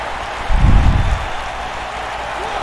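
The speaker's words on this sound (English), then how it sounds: "Listen to this crowd rooting on Daryl Graves" A crowd at the N.E.W. Brawl live wrestling show of 13 July 2019 roars and cheers in a steady wash of noise, swelling briefly near the start.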